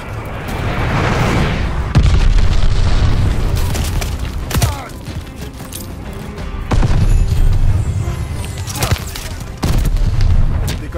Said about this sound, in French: L'ennemi a demandé une bombe planante